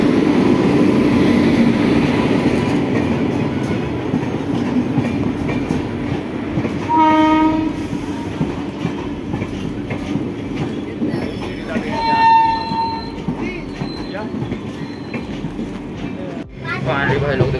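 A train pulls into a station in India on a trip toward Nepal. A loud, continuous rail rumble runs throughout with clattering wagons, and several horn blasts rise over it while people talk nearby.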